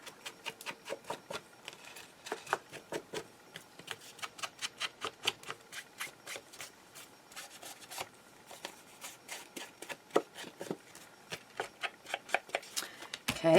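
Scissors cutting paper from a Christmas mat stack for journal ephemera, a close run of quick, crisp snips in a steady rhythm with no talk over them.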